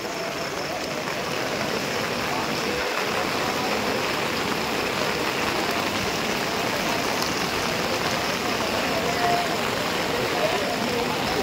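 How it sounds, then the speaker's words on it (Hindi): Heavy rain falling at Baba Dham temple in Deoghar, a constant dense hiss of downpour that is loud and even throughout, with occasional faint background sounds beneath. "काफ़ी तेज में यहाँ पे बारिश हो रहा है।"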